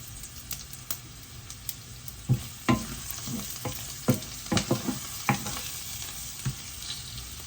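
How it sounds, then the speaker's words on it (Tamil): Onions frying with garlic and pepper powder in a pan for a curry, with a steady close sizzle broken by irregular sharp scrapes and knocks of a spoon stirring them. "இப்போ வெங்காயமெல்லாம் வதங்கிட்டுது."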